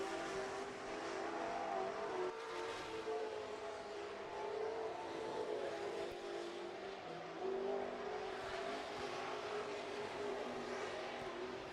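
Street stock race car accelerating out of turn four on an oval speedway, a steady droning engine note sustained at moderate distance, faint and continuous without voices.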